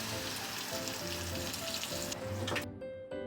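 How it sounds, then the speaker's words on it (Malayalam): Beef frying in a pan for pickle, a steady loud sizzle with faint scraping and stirring, close by, easing and thinning toward the end. "ബീഫൊക്കെ ഫ്രൈ ആയിട്ടുണ്ട്."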